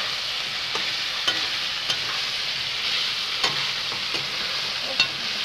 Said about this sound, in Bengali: এই যে আমার মাংস ভাজা গেছে,